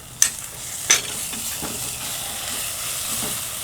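Onions sauté with ginger and garlic paste in a pan, giving a continuous close sizzle. Two sharp clanks of the spoon against the pan come near the start, with lighter stirring scrapes after them.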